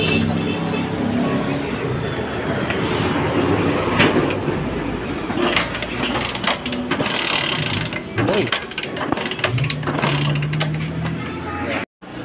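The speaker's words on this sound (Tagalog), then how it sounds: "So ayan guys, umaandar na yung ating Rouser 135." A Kawasaki Rouser 135 motorcycle engine idles steadily and close after a cylinder head repair, with a busy mechanical clatter and ticking throughout.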